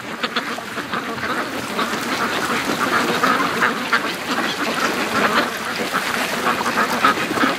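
A flock of free-range ducks walking by ice quacks continuously and noisily up close, their overlapping calls forming a busy, steady chorus with no one talking.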